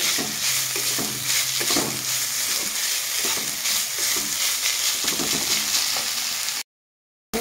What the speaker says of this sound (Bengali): এখানে আমি 5 মিনিটের মতো আলুটাকে হাই ফ্লেমে আমি আলুটাকে আমি নাড়িয়ে করে ভেজে নেব।